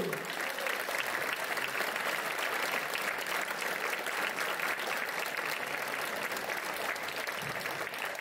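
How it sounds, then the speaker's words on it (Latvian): Steady applause from a concert audience at a 30th anniversary jubilee concert: continuous dense clapping at an even level throughout, with a faint voice briefly underneath. "Aplausi!"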